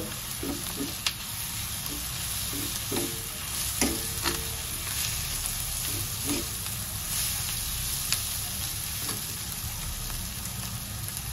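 Green chili thecha being sautéed in a pan for a brinjal bharta, with a constant oily sizzle and light scraping taps from a spatula stirring at intervals.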